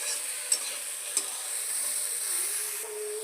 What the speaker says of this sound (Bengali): এবার ডালের সাথে ঝিঙেটাকে একটু ভাজা করে নেব।